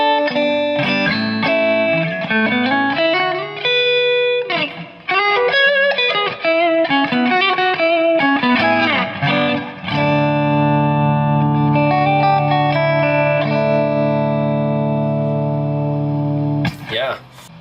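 Electro-Harmonix Oceans 3-Verb pedal on its plate reverb setting, turned up high, washing over picked guitar notes and sustained chords with a long shimmering tail, loud and continuous.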